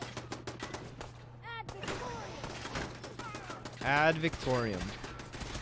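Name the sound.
gunfire shooting in a video game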